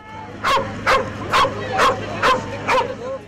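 A guard dog of an imported tough breed barks at a pet show in Lahore, six sharp evenly spaced barks close by over a steady low background hum.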